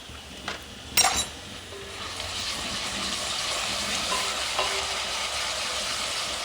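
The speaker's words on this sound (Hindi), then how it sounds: "हल्का सा हमने इसको ऑयल के साथ फ्राई कर लिया।" Garlic paste frying in oil in a pan, a steady soft sizzle with a clatter of a utensil against the pan near the start.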